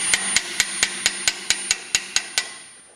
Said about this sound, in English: Get a hammer here. Tap this top shaft in.